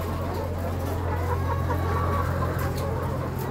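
Hens on a poultry farm cluck in a soft scattered chorus over a steady loud low machine hum, probably ventilation fans, with no talk.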